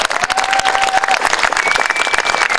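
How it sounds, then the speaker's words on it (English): An audience at the Luigi Del Bianco memorial dedication gives Goldie Solomon a round of applause, loud dense clapping with a few scattered cheers, sustained and close throughout. "Can we just give Goldie a round of applause?"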